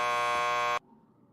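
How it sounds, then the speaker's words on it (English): A flat, loud electronic door buzzer from the game Max Payne 2 drones steadily for under a second, then stops sharply into quiet room tone. "Just press the buzzer by the door."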